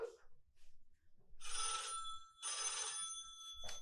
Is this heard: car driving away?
no